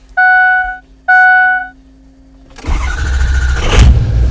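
A Ford 6.0 Powerstroke diesel truck with a slow-cranking fault starts up after two loud electronic warning chimes. The engine cranks briefly, catches and settles into a loud, close, rough idle.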